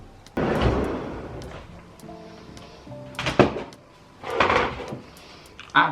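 A kitchen drawer slides open and shut several times during a cupboard and drawer reorganisation, giving loud rolling scrapes and thuds with brief pauses between them, with a faint voice in the background.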